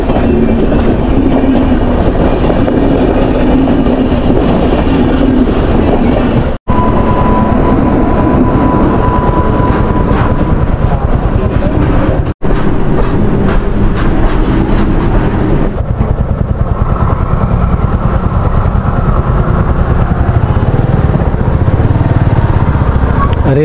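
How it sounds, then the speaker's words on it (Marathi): A loud, continuous rumble and clatter as the Ratnagiri train passes a railway level crossing close by, heard from a bike ride, the noise steady for over twenty seconds with a few abrupt breaks. "रेल्वे फाटक उघडले आहे, 2 गाड्या गेल्या लाईनीमध्ये."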